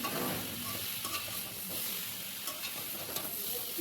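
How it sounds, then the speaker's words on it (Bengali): Ridge gourd and potato sizzle steadily in a pan as they are stirred, a close, continuous fry with soft scraping, no talk. "ঝিঙে আর আলুটা ভেজে নেব।"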